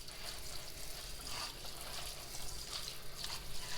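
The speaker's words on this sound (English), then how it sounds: "We have to wash all our vegetables." A kitchen tap runs in a steady, soft hiss while vegetables such as carrots, celery, parsley and onion are rinsed for chicken and rice soup, with no talking.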